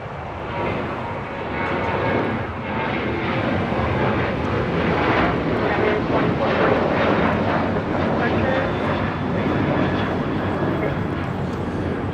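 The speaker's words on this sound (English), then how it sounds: "This is United Airlines 2449 taking off to Las Vegas on a 737-800." A United Airlines Boeing 737-800 takes off from LAX for Las Vegas, its jet engines a loud, sustained roar that rises and holds throughout, with voices talking underneath.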